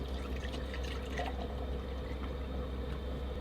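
Water pours steadily into a Jetboil pot in a camper van on a winter trip, a continuous close trickle and splash with no talk.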